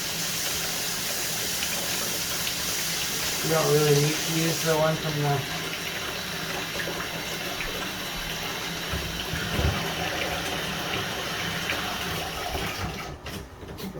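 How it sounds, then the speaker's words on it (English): Water runs steadily from a bathroom sink tap while a bucket is refilled for cleaning, a continuous gush with a brief splashing change, under someone talking nearby. "Nice thing with the sink is you got the water right here."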